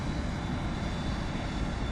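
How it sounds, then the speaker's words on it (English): An airplane taxiing in the FSX flight simulator game gives off a steady, droning engine hum that stays even and unbroken throughout. "So let's taxi to runway 4 left"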